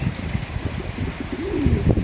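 Soft, low cooing of pigeons or doves, repeated several times close by with a gentle rising-falling warble.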